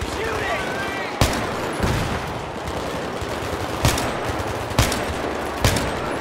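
Battlefield 3 campaign combat: a steady din of distant gunfire punctuated by several sharp, loud single shots spaced a second or so apart.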